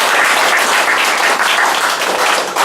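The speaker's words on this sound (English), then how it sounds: "give yourselves a round of applause for being in Leadership Maryland" Members of a leadership class in Prince George's County, Maryland applaud themselves, a loud, close, dense wash of many clapping hands sustained evenly with no speech over it.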